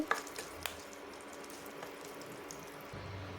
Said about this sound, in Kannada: ಅರ್ಧ ಸ್ಪೂನ್ನಷ್ಟು ಅರಿಶಿನ ಪುಡಿನ ಸೇರಿಸಿ ಇದನ್ನು ಸಹ ಎಣ್ಣೆಯಲ್ಲಿ ಫ್ರೈ ಮಾಡ್ತಾ ಇದ್ದೀನಿ